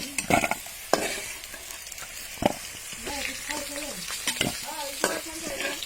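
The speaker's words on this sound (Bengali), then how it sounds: "গোল গোল তো আমাদের আলু ভাজা হয়ে গেছে" Round slices of new potato fry in a pan with a soft, close sizzle. Sharp stirring clicks and scrapes break in now and then, and faint voice-like sounds drift in the background.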